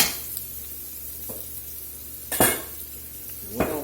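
Onions caramelizing in a pan with fond, a soft steady sizzle nearby broken by a few sharp scrapes and clinks of a utensil working the pan, no talk.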